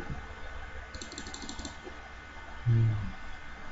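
A few computer keyboard keys clicked for a Ctrl Z undo shortcut in CorelDRAW, light soft taps over a quiet room hum, with one slightly louder thump near the end.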